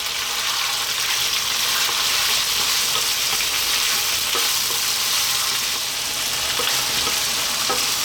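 Onion and garlic fry in a pan with a bright, constant sizzle close up. Faint stirring taps and pops sit within the hiss, and no one speaks.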